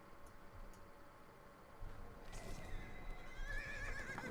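A horse whinnies in a video game partway through over soft hoof clip-clops and a faint background hum, the neigh rising shrill and fairly close.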